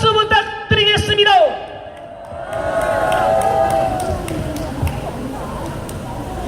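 A crowd at an outdoor patriotic rally in a Daegu market cheers and claps after an announcer's voice, a broad, steady roar of applause and shouts that stays at a moderate distance.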